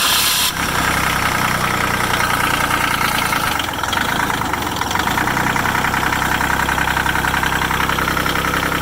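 Diesel engine of a 1984 Cub Cadet 882 garden tractor running steadily at close range, a loud continuous rumble with a brief dip in the middle before the throttle comes back up.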